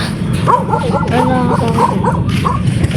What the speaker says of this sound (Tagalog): Yan po na naming aso.